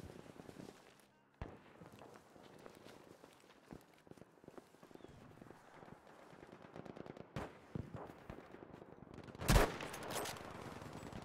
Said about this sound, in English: I'm already under fire